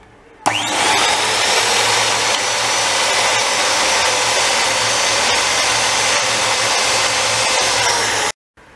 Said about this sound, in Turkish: Bunu bir güzel şimdi köpürene kadar çırpacağız